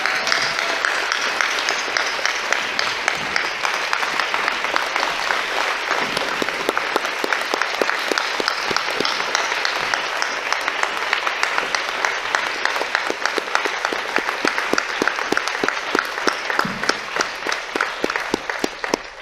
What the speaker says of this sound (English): I would like you all, please, to give a round of applause to these marvelous people